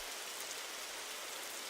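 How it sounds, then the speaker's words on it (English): Steady hiss of simulated rain falling on a ground plane in a Unity particle effect, dense, even and unbroken, quiet with no other sounds. "So the rain is hitting"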